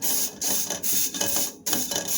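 Dried parsley is rubbed through a kitchen sieve, giving close, loud, rhythmic scratchy rasping strokes in short bursts with brief pauses between.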